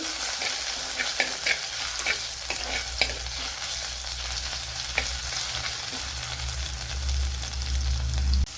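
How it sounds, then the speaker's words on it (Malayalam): Crushed garlic, a small piece of ginger and fenugreek sizzle and fry in hot oil for a Kerala green mango pulissery, with a steady crackle and occasional stirring scrapes, close and alone without voices. "ഇതിലേക്ക് ഒരു ചെറിയ പീസ് ഇഞ്ചി, 6-7 അല്ലി വെളുത്തുള്ളി ചതച്ചത് അത്രയും കൂടെ ചേർത്തൊന്ന് മൂപ്പിച്ചെടുക്കണം"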